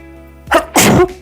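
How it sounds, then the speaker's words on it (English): A single close, loud sneeze, a brief sharp intake followed by a forceful burst, in a quiet indoor room during a relaxed knitting session; no talk around it. "Excuse me, sneezing."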